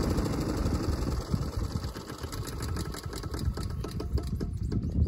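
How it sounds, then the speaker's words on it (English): A Honda HRN216 lawnmower engine runs close and loud as its carburetor starves of fuel, a rough, uneven putter with irregular knocking pulses as it falters toward stalling. "The carburetor is starting to run out of fuel right now, and eventually the engine is going to shut off on its own."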